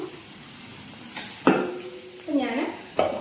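Garlic and ginger frying in a pan, giving a quiet sizzle beneath a few sharp scraping stirs, the stirring strokes coming close and brief against a soft steady frying background.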